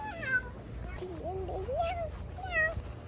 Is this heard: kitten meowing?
yes